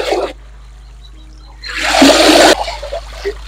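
Catfish and water being poured into the smallest size grader at a catfish farm, a loud rushing splash of about a second, preceded and followed by quieter trickling water.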